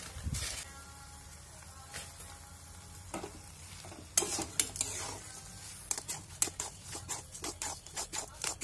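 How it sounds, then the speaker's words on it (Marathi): Jaggery semolina porridge with dry fruits, dry ginger powder and cardamom powder being stirred in a pot, a spoon scraping and clinking against the metal in repeated strokes over a soft background sizzle, close and fairly quiet, no talk. "सुंठ पावडर आणि वेलची पावडर टाकून सर्व मिक्स करून घ्यावे"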